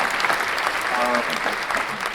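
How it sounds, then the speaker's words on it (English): An audience applauds with steady clapping, a dense wash of hands throughout, with a voice briefly audible underneath. "give Stephen a big round of applause"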